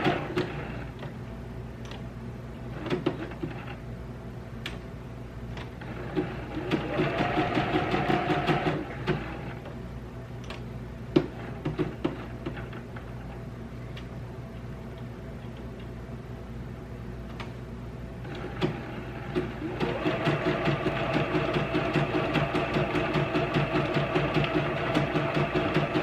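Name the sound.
sewing machine back-stitching a quilt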